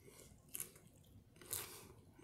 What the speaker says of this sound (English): Stuff my face with all these lettuce and greens.